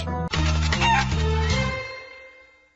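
A cartoon hen gives a burst of loud, rhythmic clucking notes, stepping through pitch in quick repeated squawks before trailing off, alone without speech.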